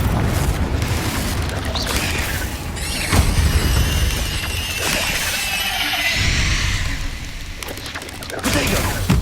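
Fiery blast of the Confringo spell in Hogwarts Legacy, a dense booming roar with crackling debris that swells twice over continuous battle noise.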